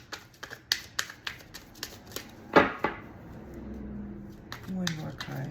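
A tarot deck being shuffled by hand: a string of quick, crisp card flicks and riffles, then a louder ruffle before softer handling of the cards as a person talks.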